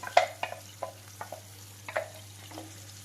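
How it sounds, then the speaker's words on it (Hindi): Gravy cooking in hot ghee, a quiet sizzle beneath a series of separate clinks and scrapes from a spoon stirring the pan, close and sparse over a low steady hum. "घी गर्म हो गया है, ये ग्रेवी डाल देते हैं इसमें।"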